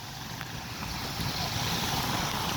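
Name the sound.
rain on a street in Karachi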